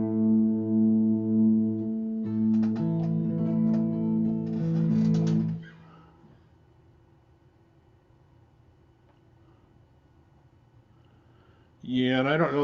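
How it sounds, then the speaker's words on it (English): Electric guitar slightly out of tune, a sustained chord with a few strums ringing for several seconds before cutting off to near silence, after which a voice begins speaking. "There you can hear it's just a pinch out of tune"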